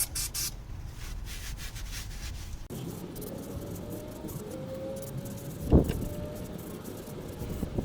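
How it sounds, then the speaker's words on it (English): A rag rubs and wipes a Fiat 500 front brake disc with brake cleaner, giving a soft, close scrubbing texture with a brief sharper scrape near the end. "Just using a bit of rag and a bit of brake cleaner."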